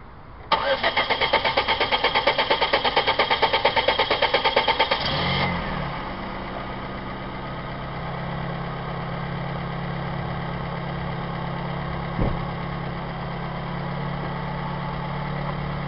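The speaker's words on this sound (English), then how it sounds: "Just go ahead and turn on the car and see results." A 2003 Nissan Sentra 1.8 engine cranks with a rapid, rhythmic starter chatter for about five seconds, catches with a surge, then settles into a steady, even idle heard up close.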